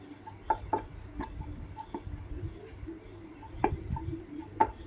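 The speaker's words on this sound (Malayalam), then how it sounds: "പിന്നെ നമ്മൾ ഗരം മസാല ആട്ടോ ചേർക്കണം എന്നിട്ട് ഇതൊന്ന് നന്നായിട്ട് വഴറ്റിയെടുക്കുക" Clam roast being sautéed with garam masala and spice powders in a pan, giving faint, soft stirring scrapes and light sizzle with a few sharper spoon clinks, close and quiet, no talk.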